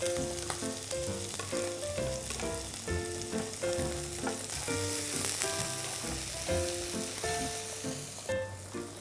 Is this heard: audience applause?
no